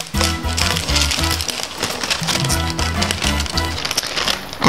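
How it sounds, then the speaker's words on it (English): A thin sheet of chocolate, spread on paper and rolled up, cracks and snaps as the roll is unrolled with the inner paper kept tight, giving dense, close, rhythmic bursts of crisp crackling with no talking. "you can hear the chocolate breaking"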